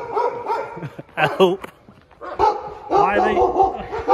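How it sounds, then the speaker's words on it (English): Stray dogs in Basra, Iraq bark and yip nearby in short, repeated bursts, mixed in with a man's excited speech. "I'm getting mauled by some wild Iraqi bin dogs"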